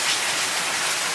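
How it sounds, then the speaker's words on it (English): Steady, dense rain falling outside, a close, continuous hiss of drops hitting surfaces with no pauses or voices. "And it's still raining."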